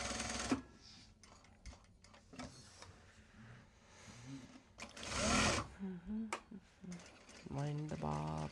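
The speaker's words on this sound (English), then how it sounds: "Wind the bobbin, wind the bobbin." Sewing machine winding a bobbin, heard as a whirring motor that comes and goes in short runs beneath a person talking nearby.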